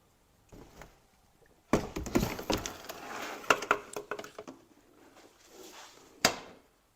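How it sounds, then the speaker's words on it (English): Plastic push pins are pried and pulled from the wheel arch trim of a BMW F25 X3, giving close, faint clicks and scraping plastic rattles in short irregular bursts, with a sharp snap near the end. "start with pulling these push pins"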